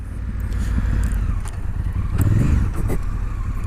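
A Honda Africa Twin motorcycle engine drones close by during a standing off-road ride, its tone dropping and rising as a gear change comes in midway, with clatter from the rough ground.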